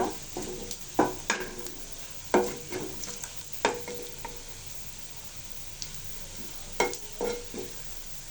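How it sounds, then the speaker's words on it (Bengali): Whole cumin seeds frying in oil after onion, garlic and chilli have browned, with scattered stirring clinks and scrapes in a pan and a soft steady sizzle underneath, a few sharper knocks standing out. "এখন দিয়ে দিব সামান্য কিছু আস্ত জিরাটাকে একটু ভেজে নিব"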